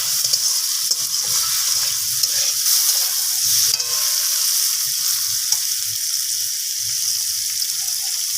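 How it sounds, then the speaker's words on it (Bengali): Mango pieces with salt and turmeric fry in a pan for sour-sweet mango chutney, giving a steady, close hiss of sizzling oil with soft stirring scrapes throughout and no talking. "লবণ আর হলুদটাকে দিয়ে আমটাকে আবারও নাড়াচাড়া করে একটু ভাজা ভাজা করে নিচ্ছি"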